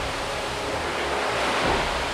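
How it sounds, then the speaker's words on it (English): Ferocious Southern Ocean wind and breaking waves around a storm-battered Volvo Ocean Race yacht, a loud, unbroken hiss and roar of spray and gusts with surging swells underneath. "the damage inflicted upon them by the ferocious wind and waves"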